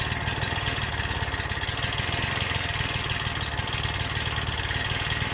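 A Motostandard motor mower's small engine idles fast and steady nearby, a dense buzzing putter with a rapid even pulse and a slightly raised idle, with no voices.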